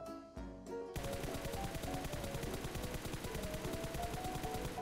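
Rapid automatic gunfire in a first-person shooter video game, a dense continuous burst of loud shots following a few brief sounds at the start.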